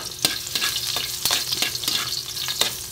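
Chopped garlic dropped into hot cooking oil in a pan, giving a loud, steady sizzle and crackle, broken by sharp scraping taps of a utensil stirring against the pan.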